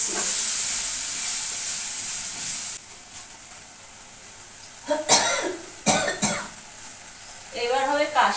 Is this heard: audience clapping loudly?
no